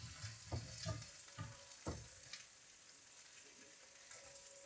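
Cherrywood bacon starts frying in a pan, heard as a faint sizzle with several quick stirring clatters early on, then a quieter, even hiss.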